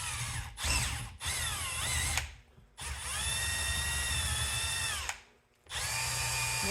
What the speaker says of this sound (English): Drill a hole in.